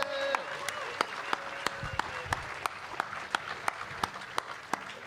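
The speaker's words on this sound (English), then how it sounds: "Please give her a huge round of applause then." An audience at a live comedy-science show at Latitude Festival applauds, a moderate wash of clapping with a few sharp, evenly spaced claps standing out above it, heard from a little distance.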